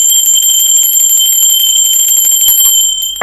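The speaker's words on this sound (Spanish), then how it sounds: "¡Va campana!" A bell rings continuously with bright, piercing high tones, loud and close, then stops abruptly near the end as a brief noise follows.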